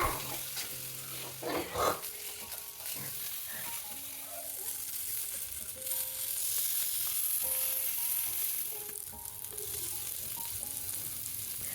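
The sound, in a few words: paneer vegetable skewers grilling in oil on hot tawa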